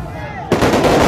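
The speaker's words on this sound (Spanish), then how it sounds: "Fuertes explosiones de cachorros de dinamita en este momento en la calle 1." A sudden loud blast of dynamite erupts in a street clash, followed by dense crackling, roaring noise that continues after a quieter moment.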